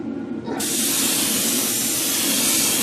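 A spray gun lays 2K clear coat over Tamiya sparkling silver model paint with a loud, steady airy hiss. It starts abruptly after a brief quieter moment, then holds close and continuous without talk.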